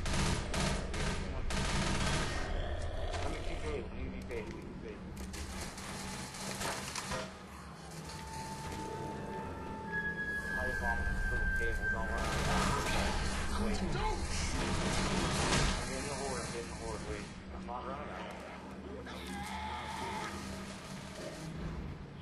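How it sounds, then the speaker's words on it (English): Gunfire from the zombie shooter Left 4 Dead: dense bursts of automatic weapon fire and shots crackle through most of the stretch while players talk over the action. "Shooting that gas tank behind us, guys, so watch out."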